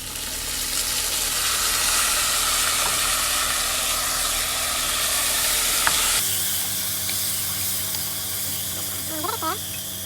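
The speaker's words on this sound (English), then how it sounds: "Now we're gonna add our chickpeas, the boiled chickpeas," Boiled chickpeas hit a pan of fried masala, onions and garlic, giving a steady close sizzle and hiss that drops to a quieter simmer partway through, with faint stirring sounds.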